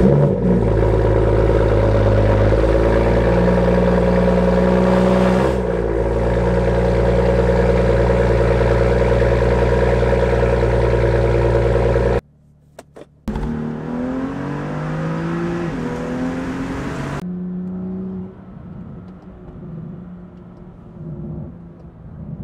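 A BMW M2 engine starts and settles into a loud, steady warm-up idle, breaks off briefly midway, then catches again and revs before easing to a quieter, even idle.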